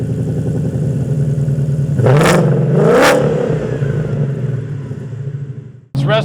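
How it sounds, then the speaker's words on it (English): A 1967 Ford Mustang restomod with a Coyote V8 idles with a deep, lumpy exhaust burble, then revs sharply twice. Each rev climbs and falls back before the engine cuts out briefly and fires up again. "First thing you can hear is the exhaust. Anybody with an ear can tell what a Coyote sounds like"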